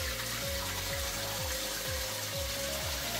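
Tap water running steadily into a tropical fish tank being set up, a continuous close rushing and splashing with a faint rhythmic low pulsing underneath.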